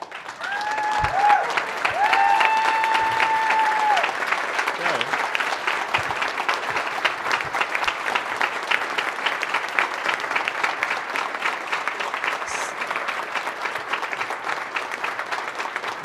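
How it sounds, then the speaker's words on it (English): A conference audience at DjangoCon US 2017 gives a sustained round of applause for conference chair Lacey, steady moderate clapping filling a large hall for a long stretch, with a voice briefly heard near the start. "So please give Lacey another round of applause"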